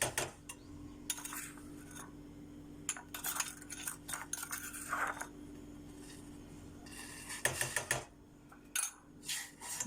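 A spoon stirs sugar into juice in a pot, making syrup for a lemon basbousa; irregular metallic clinks and scrapes come in short clusters over a low steady kitchen hum, with no talking.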